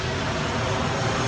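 Airplane flying overhead in the Bronx, a steady broadband engine roar that fills the whole clip at even, fairly loud level with no talk over it.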